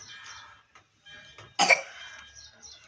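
A single sharp cough bursts out amid quiet background sounds and faint murmuring, a cough brought on by eating raw lemon.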